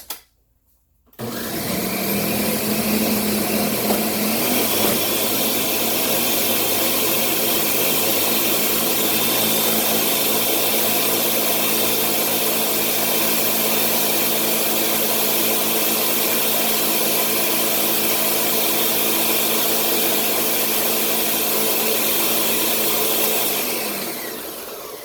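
A blender purées cauliflower grits with heavy cream and butter in a loud, steady, close whir that lasts about twenty seconds and then winds down.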